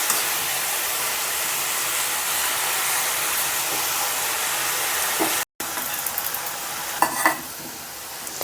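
Cabbage curry sizzles steadily in a pan as it is stirred, a loud, even frying hiss that drops out briefly, then returns with a few scraping stirs toward the end.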